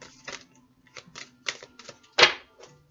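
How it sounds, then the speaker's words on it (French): Tarot cards being drawn for a reading make a quick series of crisp, close snaps and flicks in uneven rhythm, the loudest near the end, with no speech. "On va tirer 3 cartes."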